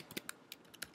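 Light, quick keystrokes on a computer keyboard, about six or seven separate clicks in under a second, close and fairly quiet, with no voices.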